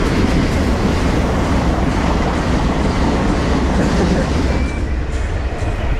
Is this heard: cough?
no